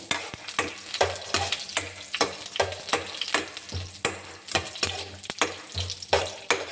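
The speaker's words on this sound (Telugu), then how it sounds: "పోపు గింజలు వేసుకోవాలి" Hot oil sizzles and crackles loudly as small seeds pop and spatter, with repeated sharp bursts and stirring scrapes throughout.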